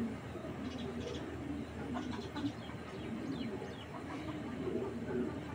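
Belgian racing pigeons coo softly and intermittently at a distance over a steady, faint background hum.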